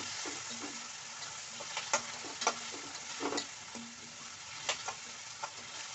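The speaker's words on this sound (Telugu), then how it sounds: "టమాటా కట్ చేసినవి వేసుకోండి టమాటా వేసిన తర్వాత కట్ చేసిన వేసి కొంచెం కలవి పెట్టండి" Chopped tomatoes frying in a pan while being stirred, a soft steady sizzle broken by light scraping clicks of the spoon against the pan at an irregular rhythm.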